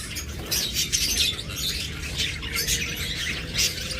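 Albino forpus parrotlets squawk and chirp close by in a continuous, scratchy chatter with repeated sharp calls over a low background hum.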